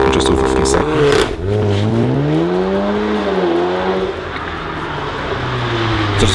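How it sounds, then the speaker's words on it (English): An Audi TTS accelerates hard off the line with launch control, its engine note climbing steeply through the revs, dropping at a gear change, then rising again, loud and close, with someone talking over it. "This Audi TTS uses launch control to propel the car in 0 to 60 in just over 3 seconds."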